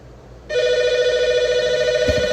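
A telephone in a podcast room rings with a loud, close, sustained electronic tone that starts abruptly and holds for about two seconds, followed by a brief thump near the end.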